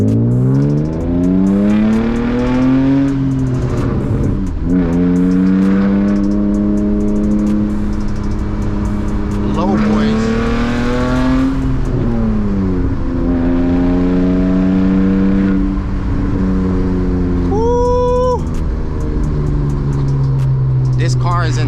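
A manual BMW E36 driving through hills, its engine loudly revving up through the gears in repeated climbing sweeps, dropping with each shift, then a brief high whine near the end, close and loud.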